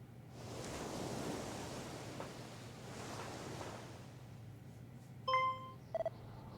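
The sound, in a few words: ocean waves in video game Dragon Quest I & II HD-2D Remake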